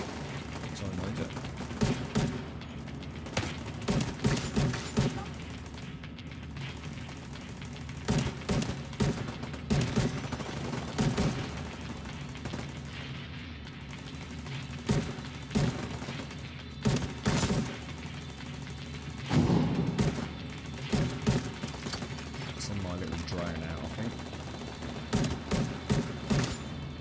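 A mounted gun fires in The Division 2 video game: loud, repeated bursts of rapid shots in irregular clusters over about half a minute, with battle noise and occasional voices between volleys.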